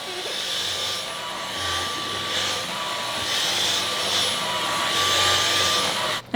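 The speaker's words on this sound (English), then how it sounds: "if your vacuum has little small attachments like this," A vacuum cleaner fitted with a small attachment runs with a steady, loud whine and airy rush that holds nearly constant, then cuts off abruptly at the very end.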